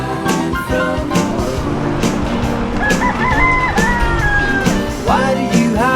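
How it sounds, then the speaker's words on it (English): A rooster crows amid clucking chickens, a sustained rising-and-falling call standing out over dense, continuous background sound. "Hello, Mr. Chicken"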